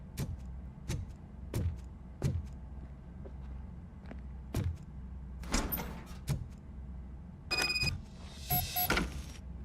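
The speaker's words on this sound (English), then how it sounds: "Now let me get that door open for you." A door opens in the video game RoboCop: Rogue City, with a run of evenly spaced heavy clanks followed by a mechanical whirring slide and a bright electronic chime near the end, all moderately loud.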